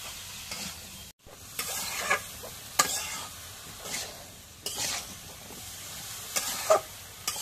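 Chopped vegetables are stirred into a frying spice paste, a spoon scraping the pan in repeated strokes over a steady sizzle, with one brief silent gap near the start.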